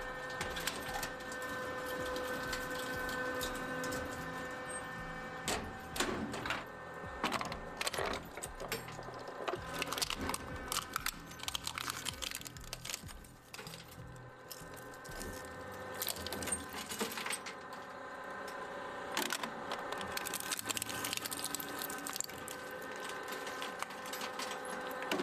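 An industrial shredder with teeth 3/8 inch apart chews through SSD memory chips, giving a steady loud mechanical grind broken by dense crunching and rattling bursts throughout.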